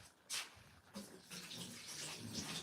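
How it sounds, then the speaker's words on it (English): Hands are rinsed under running water from a tap, a short close splashing and gurgling that comes in bursts, quiet overall with no talking. "Just quickly rinse my hands."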